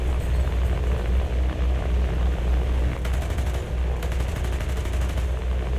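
An aircraft machine gun fires in the War Thunder combat flight game, with rapid bursts of rattling shots over a constant loud engine drone, two clear bursts standing out near the end.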